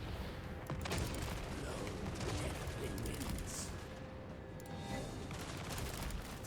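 Mortar and gunfire bursts from War Wagons and artillery in a Warhammer 3 battle, a dense continuous barrage of booms and crackling shots with distant rumble throughout.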